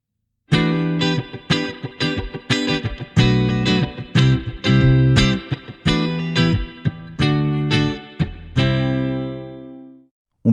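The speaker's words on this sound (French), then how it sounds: "On rajoute de la reverb." Electric guitar played through a BluGuitar Amp1 with reverb added, a string of loud picked chords and notes in a steady rhythm, ending on a sustained chord whose reverb tail rings out into silence.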